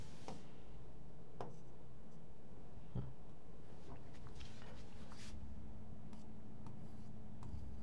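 Pen scratching steadily across paper as a date is handwritten, a dense, close, continuous scraping broken by a few light taps, with no voices.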